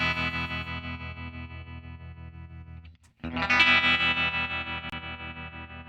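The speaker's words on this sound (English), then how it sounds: "The tremolo basically is a small volume machine that in a certain time go up and down." A guitar played through a tremolo pedal, its volume pulsing rapidly up and down. It briefly drops out, then returns with a brighter chord.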